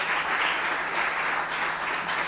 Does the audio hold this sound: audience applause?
yes